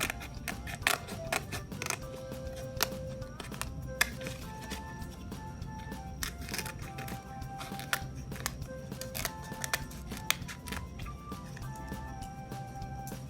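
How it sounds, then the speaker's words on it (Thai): Scissors snip through the leaf stems of plants trimmed for a homemade fermented feed for betta fish, a rapid run of close, crisp cuts and metallic clicks with faint handling rustle and no voices. "ใช้กรรไกรในการตัด ง่ายๆ แบบนี้เลยนะคะตัดส่วนก้านใบออกค่ะ"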